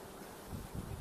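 Cold wind blows outdoors beside a parked 2017 Cadillac ATS-V, a rough, steady broadband rush buffeting the microphone for about a second.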